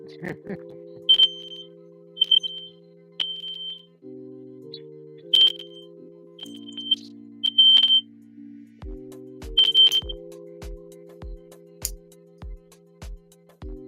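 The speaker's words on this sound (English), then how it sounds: "Fire alarm?" A fire alarm gives short, high electronic chirps at irregular intervals over sustained tonal music and sharp ticking clicks, with voices talking nearby.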